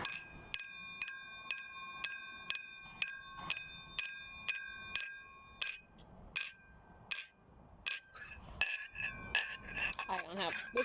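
Finger cymbals are struck together repeatedly in a steady rhythm of bright, ringing metallic chings, each tone sustaining briefly before the next, then giving way to a few irregular strikes and clinks near the end.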